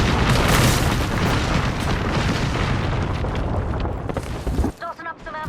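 Airstrike explosions in a shooter video game, a heavy continuous rumble of booms lasting several seconds before cutting off abruptly, followed by brief game voice chatter.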